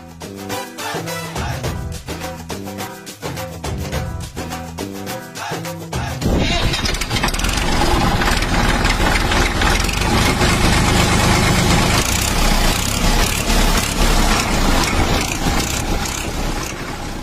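A loaded farm vehicle's engine starts up after a stretch of rhythmic music, then settles into a loud, steady idle with a continuous low rumble close by.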